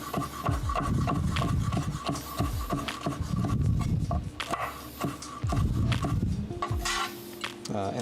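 A knife slices mushrooms into long thin strips on a cutting board in a home kitchen, with repeated rasping cuts and knocks in uneven bursts, moderately loud and close.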